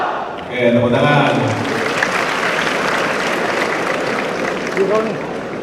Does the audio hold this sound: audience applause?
yes